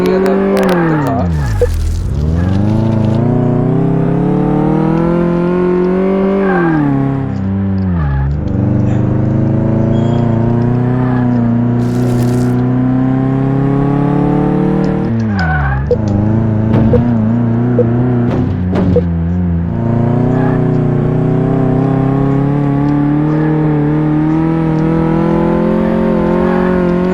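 A car on a test drive in Car Mechanic Simulator 18, its engine revving up through the gears in repeated rising sweeps, dropping sharply at each shift, loud and close for nearly half a minute without speech.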